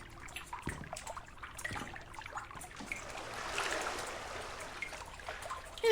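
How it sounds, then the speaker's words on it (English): Water splashes and trickles in the video game Liminalcore, a continuous, moderately quiet babble of flowing liquid with a few sharper splashes early on and a swell in the middle. "Why is the splashing so loud here?"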